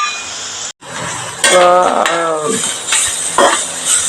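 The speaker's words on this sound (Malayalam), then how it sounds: "ആവശ്യമുള്ള ഉപ്പും കൂടി ഇട്ട് കൊടുത്ത് അത് നമുക്ക് വഴറ്റിയെടുക്കാം" Curry ingredients such as green chilli, ginger, garlic and whole spices are sautéed with salt in a pan for chicken curry, making a sizzle with spoon clinks and scrapes, and a voice briefly sounds partway through.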